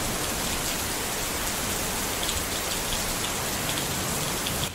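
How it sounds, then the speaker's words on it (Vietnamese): Heavy rain pouring outdoors as a dense, constant hiss, loud and unbroken throughout with no other sounds over it. "Bên ngoài trời mưa rất là to nha."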